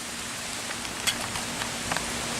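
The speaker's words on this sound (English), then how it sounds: "So it's another rainy ass day" Steady rain falls on a rainy day, a dense, even hiss with a few sharper drops pattering near the listener and no talking.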